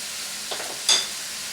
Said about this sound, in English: I'll go ahead and add my vegetables so they can cook.